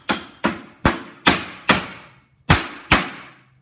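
Seven sharp hammer taps drive a transfer case seal into place during a Land Cruiser rebuild, close and loud, evenly spaced with a brief pause before the last two strikes.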